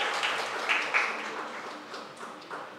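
Students at a police-recruitment academy clap in welcome, a brief burst of scattered applause from a small group that fades over a few seconds.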